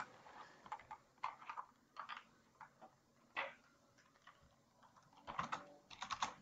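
Light, irregular clatter of computer keyboard keys while code is typed for a Symfony PHP programming lesson, quiet and close, with short bursts and pauses and no talking over it.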